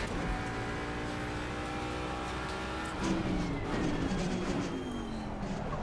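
A Mustang race car in the racing game Assetto Corsa Competizione, its engine droning loudly and continuously with rising and falling pitch as it revs through gears, with a shift and surge about midway.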